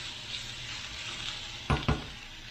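Peppers and steak sizzle steadily in a pan at moderate volume, with two quick metallic clanks from a stirring utensil close together near the end.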